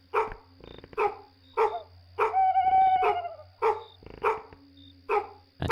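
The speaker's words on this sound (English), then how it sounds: "I have a dog barking now." Repeated dog barks in a short home-made Unreal Engine game, about eight sharp barks at a steady rhythm, clear and close over a constant low electronic hum, with one longer whining yelp in the middle.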